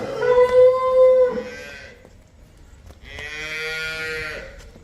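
Two long, deep moos from cows on a farm, one after another with a short pause, loud and close, with no voices.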